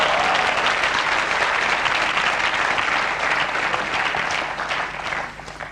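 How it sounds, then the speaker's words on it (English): Sustained applause from a studio audience, a thick continuous wash of many hands clapping at steady loudness before tapering slightly near the end. "A round of applause for Steve."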